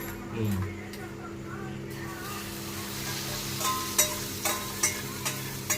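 Omelette frying in a pan of hot oil on the stove, a steady close sizzle under low background noise, with a few sharp clinks or taps near the end.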